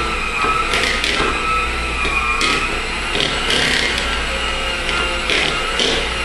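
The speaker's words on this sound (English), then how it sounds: "We'll go ahead and blend this again." An electric mixer blends cake batter after half the dry mixture and half the milk have gone into the bowl, giving a steady, close motor whir with a rhythmic scraping, grinding texture throughout and no speech.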